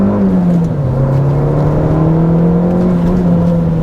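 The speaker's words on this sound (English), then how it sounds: "just revving that plucky little engine to get the most out of it." A Renault Clio 197 engine revs loudly and close, a strong droning tone that dips slightly and then holds steady under load, with no talking.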